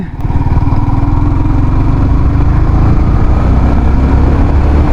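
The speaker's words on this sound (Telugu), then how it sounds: "నేను క్లచ్ పట్టుకున్న ఈ 4th గేర్లోనే బండి రేస్ చేస్తున్నాను" A Yamaha XSR 155 motorcycle with a 155cc VVA engine revs hard in fourth gear with the clutch held. It makes a loud, steady, throbbing engine drone close by that holds through the whole stretch, with no talk.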